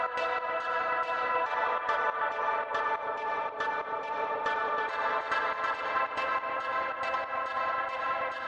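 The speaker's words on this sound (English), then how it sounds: "Not reverb, I mean delay for the chord sounds." Synth chords with a delay effect repeat in a steady rhythmic pattern, each chord followed by echoing repeats that smear into a continuous sustained texture, playing alone without talk.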